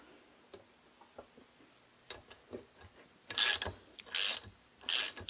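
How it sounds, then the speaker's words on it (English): A ratchet tightens a cam chain tensioner bolt through the barrel of a Honda CB250RS engine: scattered soft clicks, then three loud bursts of rapid ratcheting, close by. "So now I'm tightening the other cam chain tensioner bolt, which goes through the barrel this time."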